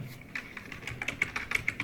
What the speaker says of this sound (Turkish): klavye değiştirdim biraz farklı geliyor